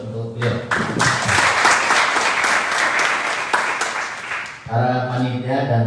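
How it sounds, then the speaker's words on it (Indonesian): Audience at the opening of a regional tourism ambassador selection event in Keerom bursting into loud, sustained applause for several seconds between a speaker's amplified talk before and after. "Berikan aplaus untuk beliau."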